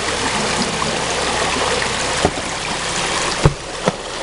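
Water rushes steadily through a small double-flared fluid bed sluice at a streamside prospecting site, a close, continuous gush with a few sharp splashes or knocks toward the end.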